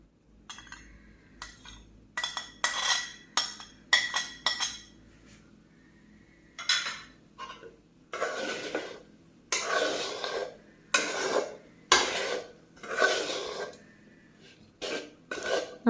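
A chicken and egg roll filling is mixed in a pan with chicken, masala and egg, giving bursts of spoon scraping and metallic clinks separated by short quiet gaps.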